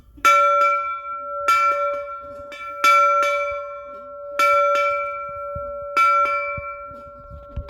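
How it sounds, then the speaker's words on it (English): A large bell at a railroad museum exhibit in Strasburg, Pennsylvania, rung by pulling its rope: loud, close clangs in quick pairs and triplets, each ring lingering and fading before the next pull, with no talking. "here's another exhibit here, this bell right here. You pull this rope and"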